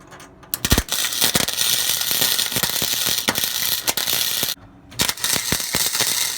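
A Harbor Freight flux-core welder stitch welds on a 240SX drift build, giving a loud, close, continuous crackling sizzle with sharp pops, broken by a short pause midway before the spatter resumes.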